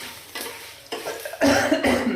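Coughing bursts in a village kitchen as chili fumes rise from a pan while kengara is fried, a few harsh coughs spaced over two seconds, the last ones loudest, with faint stirring and sizzling underneath.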